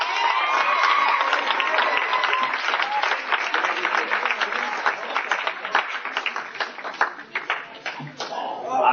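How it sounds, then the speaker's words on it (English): A banquet crowd applauds with dense, sustained clapping and some cheering that gradually thins toward the end. "Let's give them all a big round of applause."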